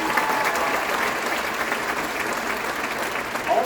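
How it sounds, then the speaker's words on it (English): Audience at a middle school music event claps in steady, dense applause for student performers, a full crowd sound that stays loud and even throughout with no talking over it. "Let's give them another round of applause."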